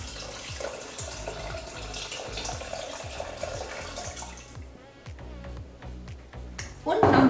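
Water, about 650 millilitres, is poured into a Thermomix TM5/TM6 bowl holding canned diced tomatoes for sausage goulash, giving a continuous splashing trickle under a speaking voice.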